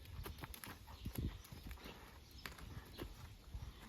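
A young, barely handled horse walks around a circus pole, its hooves giving a steady series of soft, fairly close clip-clop thuds on the ground, with no talking.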